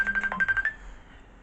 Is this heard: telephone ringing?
yes